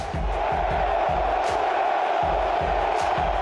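A stadium crowd at a Brazilian football match chants the player Everton's name in a loud, rhythmic, repeated call, with massed voices rising and falling in steady pulses.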